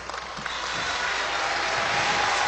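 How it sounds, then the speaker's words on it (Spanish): Audience applause at a regional senior citizens' queen pageant, a steady broadband clapping that builds slightly in loudness and continues throughout, with no voices over it. "Que se escuche ese aplauso"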